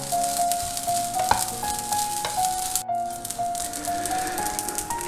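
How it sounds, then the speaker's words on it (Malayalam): Broken wheat from a ration shop roasting in oil for uppuma, giving a steady close sizzle with light crackles and scraping stir sounds, no voices. "വെള്ളം നന്നായിട്ട് വറ്റി ഈ എണ്ണയിൽ കിടന്നൊന്ന് വറുത്തിട്ടൊരു പൊട്ടുന്ന ശബ്ദം ഉണ്ടല്ലോ"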